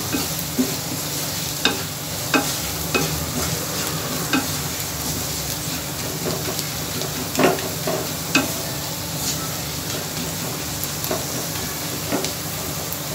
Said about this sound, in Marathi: हे मसाले चांगले परतून घेऊया.